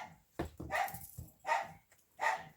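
A house dog barks in three short bursts as its owners come in, each bark loud and close with brief pauses between.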